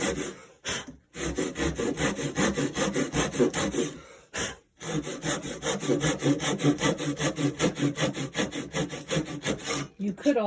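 A handsaw rasps through wood in quick, even back-and-forth strokes, close and loud, pausing briefly twice before carrying on with the cut.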